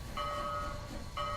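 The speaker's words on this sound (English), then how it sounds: "from the perspective of one of the passengers on this tourist train that's slowly pulling into the station" A tourist train rolls slowly into a station, with a steady low rumble under sustained tonal squeals that fade and return, heard from aboard one of the passenger cars.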